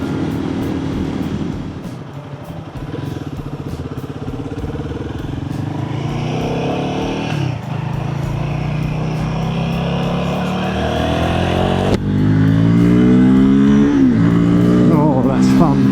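A Guerrilla 450 motorcycle engine pulls and revs high while riding, its pitch climbing and dropping through several surges and growing louder toward the end, with a rider's voice talking over the engine noise.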